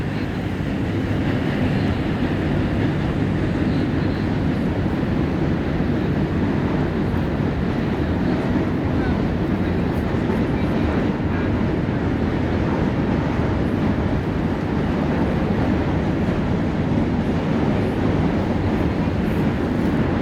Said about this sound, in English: So up there, you hear the Manhattan Bridge, the train going by.